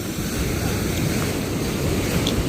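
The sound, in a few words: big ocean waves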